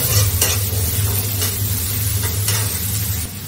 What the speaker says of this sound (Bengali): সবটা দিয়ে এটাও হালকা ফ্রাই করে নেব